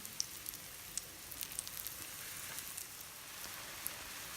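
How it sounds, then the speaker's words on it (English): Soya and chana shami kebabs frying in a pan over a medium flame, giving a steady soft sizzle with small scattered pops and crackles, with no talking. "Fry them on medium flame, and when done from one side, flip them"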